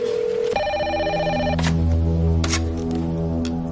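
A telephone rings with a steady electronic tone and then a bright bell-like trill, loud and close, with no talking over it.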